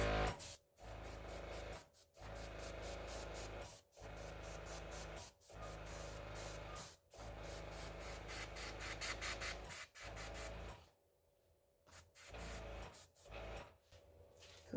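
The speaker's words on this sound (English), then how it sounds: "My trusty airbrush." An airbrush sprays paint onto an abstract resin ocean artwork in long, steady hissing bursts separated by brief regular breaks, ending with a longer quiet gap and short sprays.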